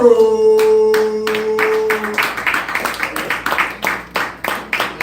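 Audience clapping for a comedian at a live comedy show, sharp scattered claps building after a held musical tone, loud and close, with no talk over it.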